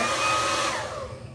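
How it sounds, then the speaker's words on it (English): A blow dryer runs on a lace frontal wig in a bathroom, a loud continuous whirring blast that eases slightly toward the end. "then we're gonna go back in with the blow dryer"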